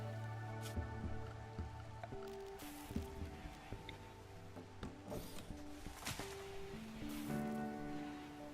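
Rain falling in the game RimWorld, a soft steady patter of drops heard throughout, mixed with scattered game sound effects and low tones, with no talking.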